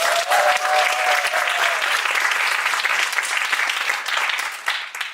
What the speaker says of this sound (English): Let's give a round of applause to all the startups.